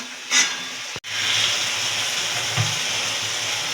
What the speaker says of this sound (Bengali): চিনিটা দিয়ে পাঁচ সাত মিনিটের মতন একটু মিডিয়াম আজে রেখে আমরা এটাকে কষিয়ে নেব